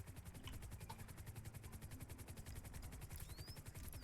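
A police helicopter hovers overhead, its rotor beating in a fast, steady rhythmic chop that stays constant and close for the whole stretch, fairly faint in level with no talk.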